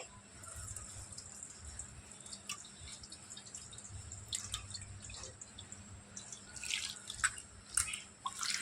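Grated potatoes are rinsed in water in a kitchen, making soft, continuous splashing, dripping and trickling that grows slightly busier toward the end, fairly faint and without talk.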